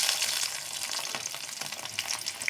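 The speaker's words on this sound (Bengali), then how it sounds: "কড়াইতে তেল বসাইছি তেল গরম হয়ে গেছে এখন দিয়ে দেবো পেঁয়াজ কুচি" Chopped onion sizzles steadily in hot oil in a wok for a fish curry, a dense close frying hiss with faint crackles throughout and no talk.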